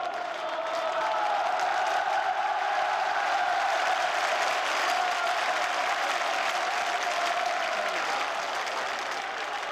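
A huge crowd of office workers and citizens roars in front of Myeongdong Cathedral, a dense, continuous wall of shouting and cheering that holds at a steady loud level throughout.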